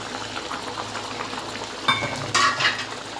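Eggplant pieces going into a pan where hilsa fish is frying, a continuous close sizzle and bubbling with stirring, then two sharper bursts of hissing and clinking as the pieces land, no voice.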